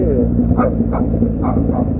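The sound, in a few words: dogs barking in the street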